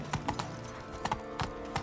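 Geralt's horse Roach galloping in The Witcher 3, hooves clip-clopping in quick uneven bursts of two or three strikes over steady game ambience and music.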